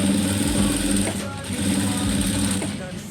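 A sewing machine stitching the front edge of a JPJ corporate uniform, a steady close whirring drone that runs throughout and dips briefly before resuming, with no talk over it.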